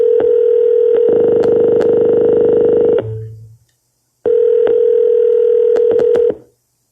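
A telephone gives a steady dial tone broken by a series of sharp keypad beeps as a number is dialed for a real estate cold call, then the tone stops briefly before returning with more beeps.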